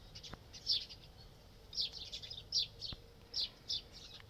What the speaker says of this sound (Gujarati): લીંબુડીમાં ચકલીઓ રમે છે